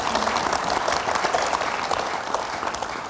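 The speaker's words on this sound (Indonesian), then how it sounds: "Ya, mau tepuk tangan dulu." Studio audience applause at an Indonesian television talk show, a dense, steady wash of many hands clapping throughout, loud and close with no talk over it.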